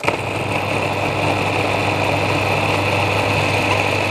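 A kitchen machine motor whirs steadily while cutting butter into flour, a constant mid-pitched hum with a slight buzz, close and even throughout, no talking.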